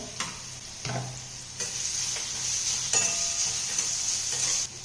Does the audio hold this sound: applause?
no